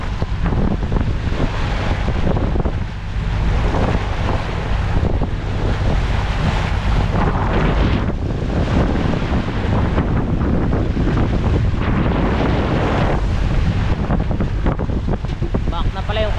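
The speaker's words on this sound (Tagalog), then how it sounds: "namumuti-muti na ho ulit ang mga alon" Strong wind at sea, heard from a small boat as whitecapped waves build, buffets the microphone in a loud, steady roar. Surging surf and splashing water wash beneath it, continuous and close throughout.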